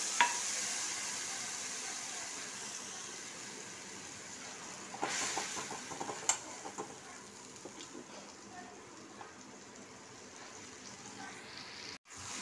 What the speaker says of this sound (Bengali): এবার আমি লঙ্কার জলটা দিয়ে দিলাম।